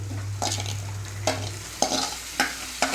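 Marinated chicken for biryani frying over a slow flame in a pan, with a steady sizzle broken by several sharp scrapes and stirs of a spatula, close and with no talking.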